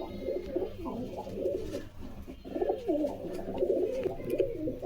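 Imported pigeons, a male among them, cooing steadily and close by in a pigeon sale setting, rolling coos overlapping in two long bursts over a dense background murmur.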